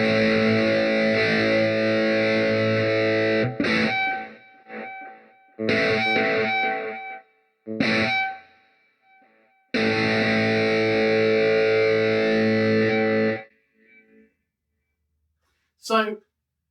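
Distorted electric guitar run through the modulation effect of a NUX MG-101 budget multi-effects unit, sustained chords in several bursts with pauses between, ending with a short high scrape.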